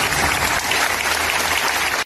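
A standing crowd applauds at a farewell for Father José María Tojeira at the UCA, a dense, loud, continuous roar of clapping that holds evenly throughout and then cuts off abruptly.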